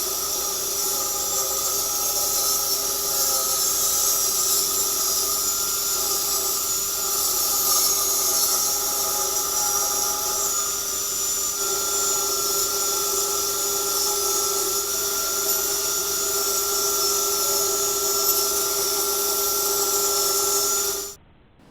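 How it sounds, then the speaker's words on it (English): A table saw runs through wooden planks in one long whining cut, a loud, steady high-pitched tone with a constant hiss that holds for about twenty seconds and then stops abruptly. "So now that our saw is set up, the next thing to do is to start cutting our wood."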